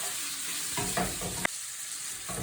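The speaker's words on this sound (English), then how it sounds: "We're just sealing the meat, so keep the flame fairly high." Meat sears over a fairly high flame in a pan for Lancashire hotpot, giving a steady, close sizzle with a brief clink of a utensil partway through.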